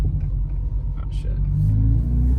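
A Subaru Impreza fitted with a pedal commander, accelerating hard in sport mode on a side road, its engine a loud, steady low rumble heard from inside the car.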